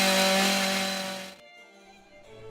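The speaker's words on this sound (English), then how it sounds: "Chainsaw." Chainsaw engine running steady and loud for over a second, then cutting off abruptly into a fainter, decaying tail.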